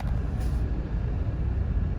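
A Ford Everest Titanium SUV drives along a road in Muñoz, Bulacan, with a steady low rumble of engine and tyres that stays fairly loud and constant for a couple of seconds.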